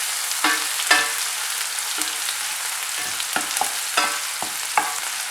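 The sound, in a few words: onions frying in a pan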